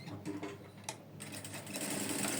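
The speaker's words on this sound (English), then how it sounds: "I'm going to be sewing it down like this" A sewing machine stitching down a trouser pocket, close and loud, with a rapid mechanical whirr that pauses briefly and then runs on steadily.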